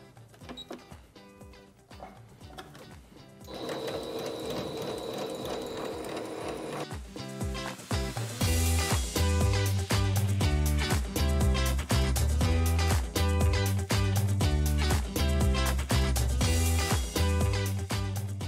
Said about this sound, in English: So we're gonna take this to the machine and I'm gonna show you guys how to shir.